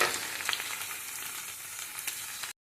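A beetroot side dish sautés in a pan, giving a steady close sizzle and crackle with a few soft stirring scrapes, then cutting off abruptly.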